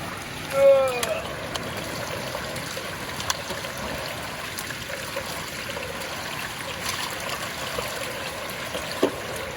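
Water runs steadily through a gold prospecting sluice, a close, continuous trickling flow with a few sharp clicks and a brief higher tone near the start, and a voice faintly audible in the background.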